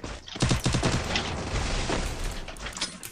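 Rapid bursts of automatic gunfire from a Free Fire battle-royale match, dense overlapping shots and booms filling the whole stretch at close, loud range with no talking.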